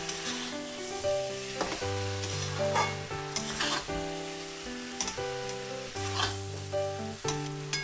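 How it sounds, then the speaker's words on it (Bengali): Spice paste and rice for muri ghonto, a Bengali fish-head rice dish, sizzle steadily in a pan while being stirred, with a continuous frying hiss, intermittent scraping clinks, and background music throughout. "চালের সাথে সমস্ত কষানো মশলাটাকে ভালো করে মিশিয়ে আরেকবার একটু হালকা কষিয়ে নিতে হবে।"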